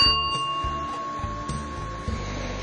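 A small bell in a gazebo at Radomysl Castle, Ukraine, rings with a sustained bright tone that slowly fades, accompanied by low rhythmic rumbling in the background.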